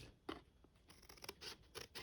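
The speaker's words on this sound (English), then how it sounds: "you can cut it with regular scissors" Regular scissors snipping through material for a wobble wheel mechanism, a string of crisp separate cuts in an irregular rhythm, close and quiet with no talk.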